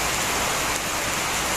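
Heavy rain pouring steadily in a rainy area, a dense, loud, unbroken hiss of downpour with no voices.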